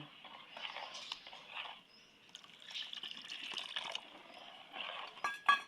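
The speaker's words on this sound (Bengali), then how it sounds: "বাটিতে আমি জলটা রাখছিলাম ওইটাই দিয়ে দিব" Water pouring and splashing into a bowl of batter for Bengali pitha such as patishapta: soft intermittent trickles and drips, fairly quiet, with faint clinks near the end and no talk.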